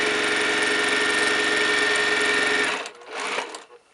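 A sewing machine runs a quarter-inch seam down the side of a quilt block, a fast steady rattling stitch close by that stops abruptly near the end, leaving a few faint handling sounds.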